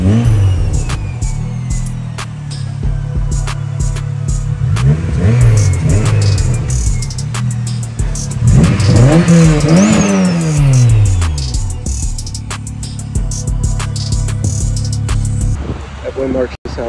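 A freshly turbocharged 9th-generation car accelerating on a street, its engine note climbing repeatedly through rising sweeps as it pulls through gears, loud and close, with voices talking over it and clicking sounds throughout.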